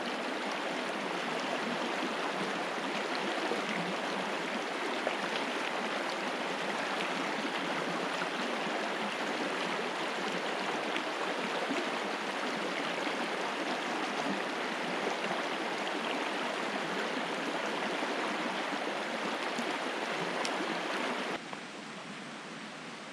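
Clear Creek rushing past a backcountry trail crossing in Yellowstone, a steady broadband wash of flowing water filling the whole stretch, close and even in level, easing slightly just before the end.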